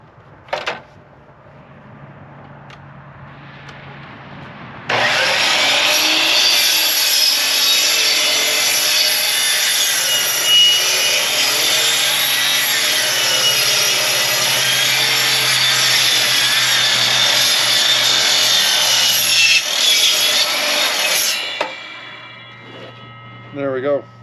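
A dull 12-inch saw blade cuts through a wooden deck rafter in one loud, steady run of about sixteen seconds, then winds down, with quieter handling noises before and after.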